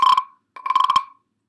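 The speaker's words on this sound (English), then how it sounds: "when I scrape it, it almost sounds like a frog" A frog-shaped wooden güiro scraped twice, giving two short ratchety rasps about half a second apart that sound like a frog's croak, close and fairly loud, with no talking.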